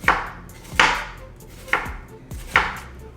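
A knife chops green onions and onion on a board in four or five sharp, separate strokes at an uneven pace. They are close and loud, each with a short thud and a crisp top, with no voices.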